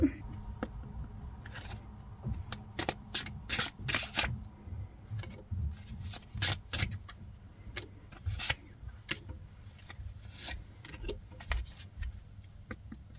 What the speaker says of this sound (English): I didn't shuffle there properly